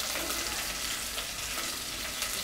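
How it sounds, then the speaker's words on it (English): Finely sliced onions hit hot oil in a pan for rice, giving a steady, close, hissing sizzle with no talk over it. "And I am going to add onions."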